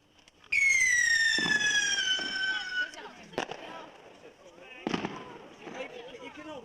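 Bonfire night fireworks: a loud whistling rocket screeches up and fades, followed by several sharp bangs and crackles at close range.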